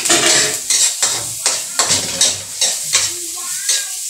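Onion and garlic sauté in hot oil, sizzling under repeated scraping strokes of a spatula against the pan, about eight rhythmic stirs in close succession.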